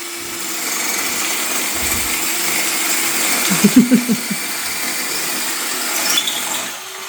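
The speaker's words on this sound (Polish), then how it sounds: "Nie miałeś większej wiertarki?" A power drill whines steadily at moderate volume, with a brief burst of grinding knocks partway through as it bites into material.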